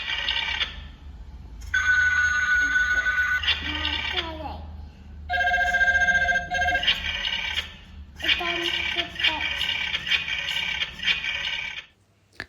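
A child's toy telephone rings close up, playing bright electronic ringtone bursts that stop and start several times with short gaps between them. Faint handling scrapes come through in the pauses.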